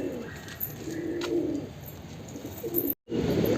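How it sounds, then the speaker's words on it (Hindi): Wild pigeons cooing on a house rooftop, several soft low coos in short phrases at moderate distance, with a brief dropout near the end and quiet background. "देखिए ये एक एक करके जंगली कबूतर आते रहते हैं।"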